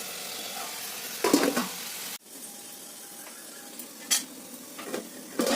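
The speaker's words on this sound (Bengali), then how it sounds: "চেরা কাঁচা লঙ্কা দিবে" Slit green chillies added to keema khichuri frying in a pan: a constant close sizzle, with several sharp scrapes and clatters of a spoon against the pan as it is stirred.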